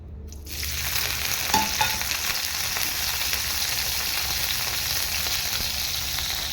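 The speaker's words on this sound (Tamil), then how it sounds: "இப்போ அடுப்பில் எண்ணெய் காஞ்சிருச்சு வடை சட்டியில் நம்ம இது வெங்காயம் பச்சை மிளகா போட்டுக்கலாம்" Onions and green chillies dropped into hot oil in a kadai, a loud steady frying hiss that starts abruptly after a brief silence and continues evenly, no talk.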